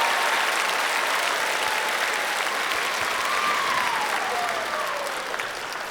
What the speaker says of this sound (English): give another round of applause for Jessica and Summer as well